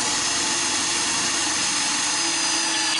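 A drill bores through a bicycle bottom bracket with a 5 mm bit, giving a loud, constant, high whine that holds steady from start to finish.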